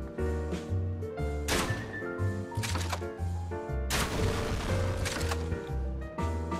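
Crossbow shots in the action game Elden Ring, several sharp thunking releases spaced irregularly, each with a short ringing tail over a steady low game background.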